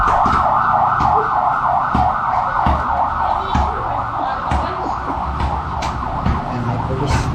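A police car siren wails continuously with a steady rising-and-falling pattern, loud and close as it passes along a street, with traffic noise and a few knocks underneath.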